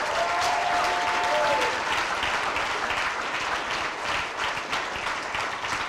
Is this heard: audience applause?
yes